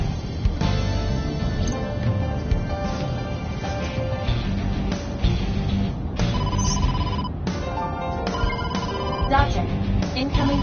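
An incoming call rings on a phone in the video game AI: The Somnium Files, a loud repeating ringtone pulsing in bursts over game music for about ten seconds.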